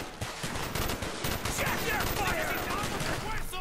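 Rapid sustained gunfire in the video game Call of Duty: Black Ops, a dense continuous stream of shots at moderate level with a voice speaking over it.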